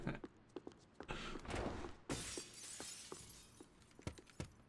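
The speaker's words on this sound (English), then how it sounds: "Smashing glass sound played at the same time to top the effect off." Glass smashing in the video game Max Payne 3: a loud shattering burst with scattered tinkling shards, amid sharp thuds and impact clicks across the clip.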